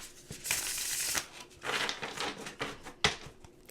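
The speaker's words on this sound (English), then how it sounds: "do a couple shuffles." Tarot cards shuffled by hand in several quick riffling bursts, with crisp papery flutters and soft slaps separated by short pauses, close and moderately loud.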